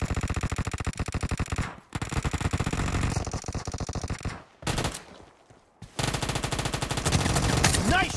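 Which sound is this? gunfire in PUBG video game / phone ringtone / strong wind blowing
gunfire in PUBG video game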